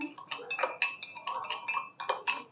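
A spoon clinks and scrapes rapidly against the inside of a cup while mixing coffee, light metallic ticks in a quick, uneven stirring rhythm, close by.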